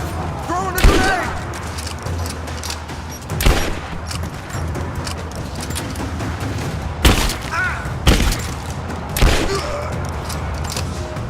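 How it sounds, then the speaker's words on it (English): Grenade thrown and exploding during combat in Rise of the Tomb Raider, heard as several loud booms and gunfire bursts spread across the clip over a constant battle din, with voices shouting in the background. "Throwing a grenade!"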